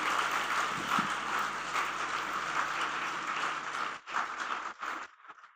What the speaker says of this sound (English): ladies and gentlemen, a big round of applause for Alka also